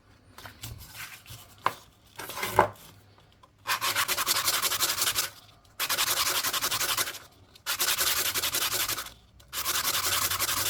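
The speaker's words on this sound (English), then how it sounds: "Let's give it a bit more of the old" Sandpaper rubs back and forth on a ring made from a South African 5 Rand coin, a few short scratchy strokes followed by four long, loud, steady sanding bursts with brief pauses between.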